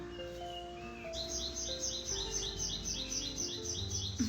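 Several birds chirp and whistle outdoors, with sustained tonal calls joined by a rapid, repeating high twitter; the calls sound moderately distant and fairly quiet, with no talking.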